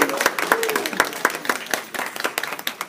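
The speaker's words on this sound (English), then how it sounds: "Give yourself a round of applause." Scattered applause from a small audience finishing a training session, irregular claps close by with a few voices murmuring underneath.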